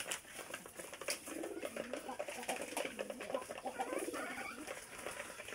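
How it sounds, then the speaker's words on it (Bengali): Pigeons coo softly in a coop, a low continuous murmur of overlapping calls with light pattering and shuffling, fairly faint and steady throughout. "এগুলো হচ্ছে কবুতরের ভাষা।"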